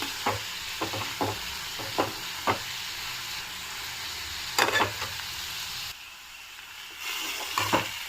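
Broad beans (chikkudukaya) with chili powder fry in a pan under a steady, close sizzle, with several soft clinks and scrapes from stirring scattered throughout and no voices.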